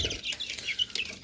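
Shamo chickens, with a couple of Aseel chicks among them, cluck and chirp repeatedly while being given their feed, close by in a steady busy chatter with no talking.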